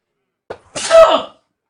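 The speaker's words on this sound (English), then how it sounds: "Gonna sneeze." A person sneezes once indoors: a brief inhaled catch, then a sharp, breathy burst that tails off quickly, close and fairly loud against silence.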